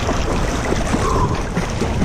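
A swimmer paddling back through ocean water at Waikiki, with a steady broad wash of water and waves around them and a few soft splashes, close and fairly loud, with no talk.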